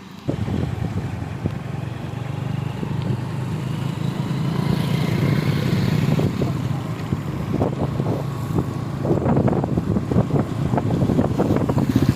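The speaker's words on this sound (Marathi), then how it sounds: "हा पाऊस आपल्याला इथे पाहायला भेटतोय" Heavy monsoon rain pours steadily over waterlogged farm fields in Yedgaon, a continuous broadband roar mixed with gusty wind buffeting the microphone and scattered sharper patters toward the end.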